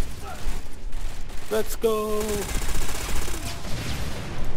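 Gunfire in the Tom Clancy's Ghost Recon video game, a loud burst of close shots mixed with game sound effects while players shout over it.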